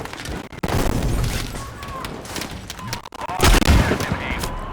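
Gunfire from the video game Battlefield V rattles in rapid bursts, loud and close, with sharp cracks and a heavier boom near the end.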